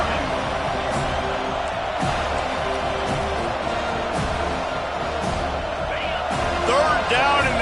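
A stadium crowd at a Alabama college football game roars in a sustained, dense wall of cheering under a commentator's voice, with a whistle-like whoop rising near the end.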